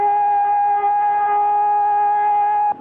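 A steady, wailing siren tone holds loud and unbroken for a few seconds, then cuts off abruptly at the end.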